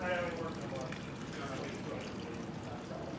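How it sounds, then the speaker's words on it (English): Hibiscus liquid pours into a glass for a cocktail, a soft steady splashing trickle close by, while someone talks over it. "And you will see as I pour this"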